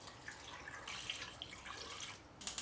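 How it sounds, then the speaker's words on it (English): Water pours from a tap into a large soup pot of carrots, old cucumber and pork bones, a steady splashing stream that grows a little louder partway through. "Add water."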